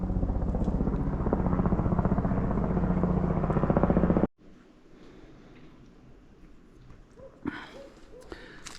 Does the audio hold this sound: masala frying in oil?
no